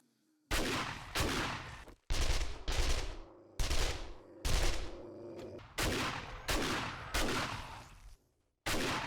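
Shotgun blasts in the survival game 7 Days To Die, about nine loud, close booming shots fired in an uneven rhythm, each with a short decaying tail, with no talking over them.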